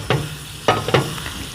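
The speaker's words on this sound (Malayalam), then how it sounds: "ഇതിലേക്ക് കൂന്തൽ നമ്മൾ ഇടണം കേട്ടോ" Lightly fried squid tossed into masala in a pan gives a steady sizzle broken by three sharp stirring scrapes, near and clear, without talk.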